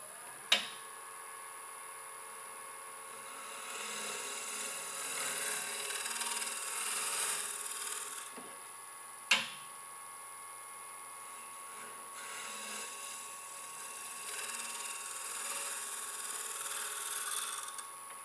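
Scraper cutting and shaping a wooden bowl on a lathe, heard as a steady close scraping rasp that swells and fades in long passes, with two sharp knocks.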